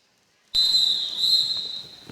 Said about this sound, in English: A long whistle means timeout's over.